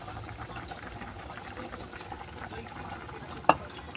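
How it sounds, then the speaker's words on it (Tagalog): A pot of water at a rolling boil for misua bubbles and churns steadily at low volume, with one sharp knock near the end. "Kulong-kulo na oh."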